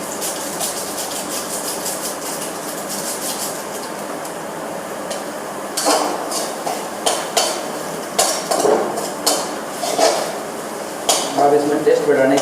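Maggi noodles are stirred with their seasoning pouch in a pan, and a utensil knocks and scrapes against the metal in irregular clatters that grow louder toward the end, while a person talks throughout.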